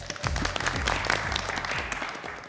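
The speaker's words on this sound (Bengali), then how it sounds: "আমরা সবাই সবার জন্য একটা জোরে হাততালি দেই" A studio audience at a makeup competition show applauds the contestants with steady, moderately loud clapping from many hands lasting a couple of seconds, with faint voices mixed in.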